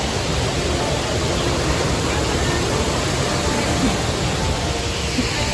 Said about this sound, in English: That's a nice, pretty little waterfall. It's so loud.